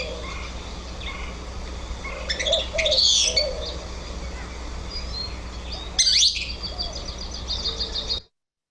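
A noisy bird along a sycamore and cottonwood creek gives a few sharp chattering calls, rising over a steady hum of background noise from insects and other birds.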